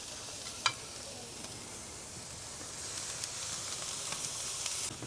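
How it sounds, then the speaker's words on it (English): Shrimp skewers sizzle on a grill with a steady, even hiss, joined by a few faint clicks and pops. "Let's go over here and get these on the grill."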